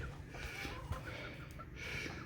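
Laying hens clucking softly with a rooster among them, a small backyard flock of five hens and one big cock kept near a house build; steady low murmuring clucks throughout, fairly quiet and close, no talk.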